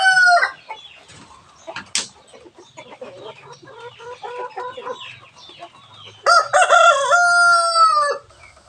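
Chickens cluck nearby in short bursts, then a rooster lets out a loud, close crow toward the end.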